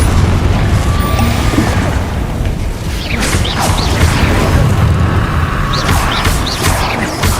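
Dense, loud explosive blasts from a Confringo spell in Hogwarts Legacy, rumbling booms layered with crackling debris in a steady barrage, no voices.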